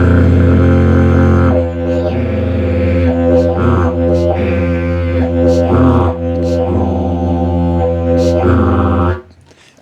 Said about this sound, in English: And that sound is my little tongue in the back of my throat, That and I'm controlling it to vibrate more or less.